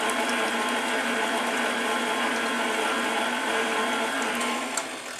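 An electric beater whirs steadily through key lime pie batter at a moderate speed, a continuous close motor drone with a faint rattle, holding evenly before easing slightly near the end.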